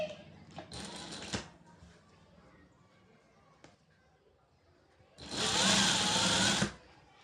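A sewing machine stitches a blouse seam in two short, close bursts of rapid whirring, the second longer and louder, separated by a quiet stretch with faint handling noise.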